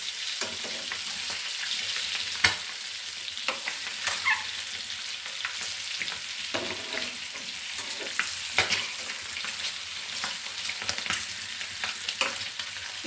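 Egg bhuna masala spatters in hot oil, a dense, continuous crackle with sharp pops scattered throughout, close and fairly loud, with no voices.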